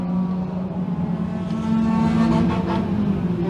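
Several thunder cars racing on a short-track oval in a six-lap heat, engines droning and rising together as the pack roars past after the restart, loud and steady with no talk.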